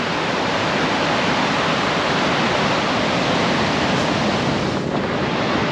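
Ocean surf at Torrey Pines beach in San Diego, a steady loud wash of breaking waves rolling continuously with faint wind noise, no voices.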